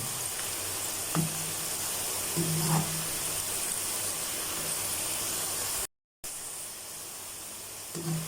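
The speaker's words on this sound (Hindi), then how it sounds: "थोड़ा सा और इसको गोल्डन फ्राई करेंगे" Cauliflower pieces frying golden in hot oil in a home kitchen give a steady, even sizzle and hiss, with a few soft utensil clinks and a brief dropout partway through.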